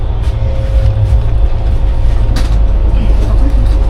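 A long-distance train pulls into Kanyakumari station at the end of a journey from Pune, a steady loud low rumble and rolling drone filling the whole stretch with a faint high squeal rising briefly near the middle.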